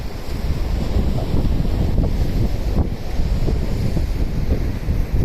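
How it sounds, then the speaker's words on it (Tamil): Wind buffets the microphone and waves surge steadily at a coastal spot where a river meets the sea, forming a continuous loud roar with no talking. "இதுதான் கடல் கலக்கிற இடம்."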